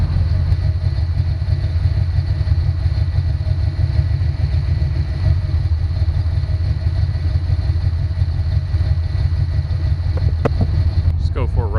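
A 1990 Ford Mustang 5.0 V8, left sitting for over four years, runs steadily at close range with a loud, continuous low rumble and a few clatters near the end.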